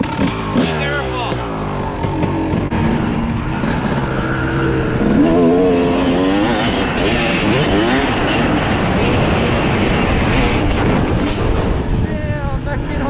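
An 85cc dirt bike rides and revs nearby, its engine whining and rising in pitch over a continuous loud roar, with people shouting and talking over it.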